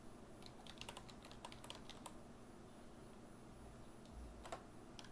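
Rapid, irregular keystrokes on a computer keyboard while Python code is entered. The clicks are light and fairly close, with short pauses between bursts and no talk over them.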